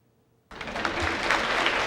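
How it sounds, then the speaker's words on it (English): Applause at a celebration in the Bryant-Denny Conference Center bursts in suddenly after near silence and carries on as a dense, loud, steady wash of clapping from a crowd. "The sound of applause filled the Bryant-Denny Conference Center as Colleen Wilbur"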